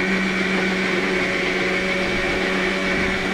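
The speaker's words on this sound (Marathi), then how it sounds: "काकीने बघा मिक्सर चालू आहे काम" An electric mixer grinder runs steadily in a home kitchen, making a loud, continuous motor whine with a constant hum and no change over the whole stretch.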